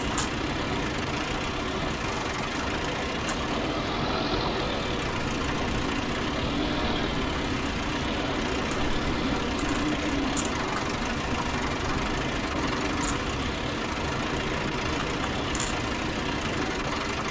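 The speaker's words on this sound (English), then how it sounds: "this 175 big old tractor for its time" A Massey Ferguson 175 tractor, a big farm tractor from 1967, runs steadily with a continuous low engine rumble and knocking throb, close and unchanging throughout, with no talk.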